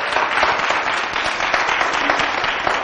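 A studio audience at a music-industry television show claps loudly and continuously, a dense, bright roar of hands with no pauses, close and strong from start to finish.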